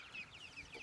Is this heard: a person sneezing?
no